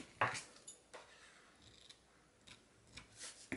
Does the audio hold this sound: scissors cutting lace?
yes